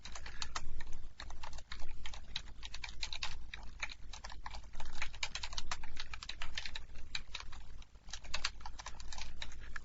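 Someone types fast on a computer keyboard at a command line. The key clicks come in dense, steady bursts with short pauses between them, close to the microphone and with no talking.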